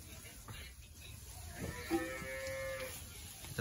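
A cow moos once in the middle distance, a drawn-out low call rising over faint background noise and distant voices.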